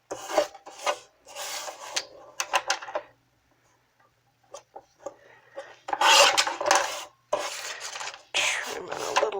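Paper for a vellum card being trimmed on a paper trimmer, several short bursts of rasping, sliding cuts separated by pauses, close and fairly loud, with some faint handling clicks between.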